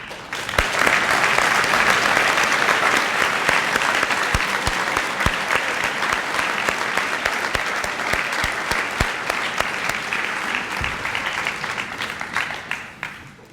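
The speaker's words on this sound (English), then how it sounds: "please stand and receive a well-deserved round of applause" A graduation crowd at the 2019 Lincoln High School ceremony gives school staff a long, sustained round of applause, dense clapping with individual sharp claps standing out, gradually tapering off at the end.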